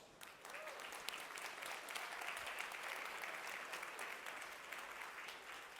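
Sustained applause from a large crowd, steady clapping that fills the whole stretch at an even level.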